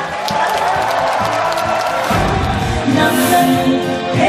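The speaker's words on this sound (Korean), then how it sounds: "큰 박수를 부탁드립니다." A concert audience at an orchestra's performance in Seoul applauds and cheers in a loud, continuous wash of clapping and crowd noise, with voices mixed in throughout.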